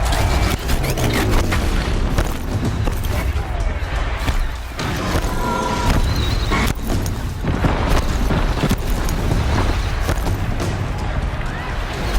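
Stone pillars crash down onto a behemoth machine in Horizon Zero Dawn, making a long run of loud booms, thuds and rumbling debris impacts, with a voice speaking briefly over the noise.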